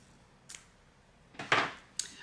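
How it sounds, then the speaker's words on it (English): Scissors make a few quick snips through a folded piece of sewn fabric, with short crisp cuts spaced apart and one louder, longer cut near the end, close by in a quiet room. "I'm just going to fold it in half and cut it"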